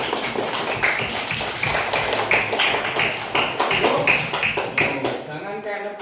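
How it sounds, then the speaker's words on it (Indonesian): A class of students claps hands together in a classroom, a dense run of sharp overlapping claps lasting several seconds before tapering off, with a teacher's voice talking near the start. "Coba tepuk tangan dulu buat semua."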